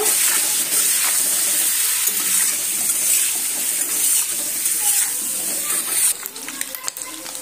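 Continuous hissing sizzle of eggs frying in hot oil with salt and turmeric, loud and close, easing slightly toward the end.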